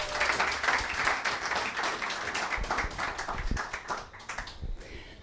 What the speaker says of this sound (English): So let's give a warm applause.